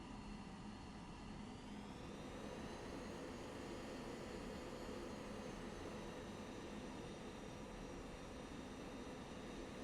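A jet fighter, an F-16 in the Falcon BMS flight simulator, taxis at an airbase, its engine a steady distant whine and rumble with a slowly rising then settling tone, alone without talk.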